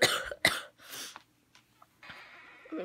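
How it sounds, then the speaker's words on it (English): Several sharp, close coughs in quick succession from a person with a sore throat, followed by a pause with faint breaths and then a rough, raspy exhalation. "my throat is still sore and I'm still coughing and everything"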